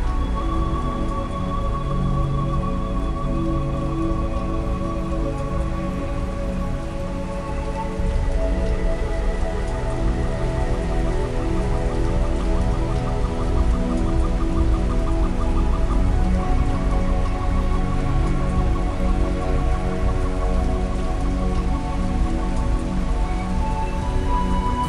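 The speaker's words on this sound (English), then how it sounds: "Or the rain as it falls to the ground?" Rain falls steadily onto the ground, a dense continuous patter that swells louder partway through, with no voices.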